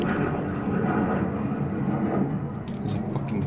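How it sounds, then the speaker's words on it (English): An airplane flies overhead in the game STALKER Misery, a steady broadband engine roar that holds through the whole stretch while someone talks over it. "There's a fucking plane or something going over."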